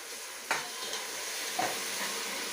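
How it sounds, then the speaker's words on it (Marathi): Onion fries in plenty of ghee for a mushroom biryani, a soft, steady sizzle with a couple of faint stirring scrapes and no talking over it. "आता हा कांदा थोडा गरम करून घ्यायचा आपल्याला"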